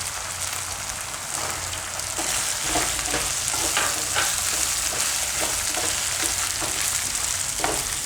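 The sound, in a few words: carrots and potatoes frying in a pan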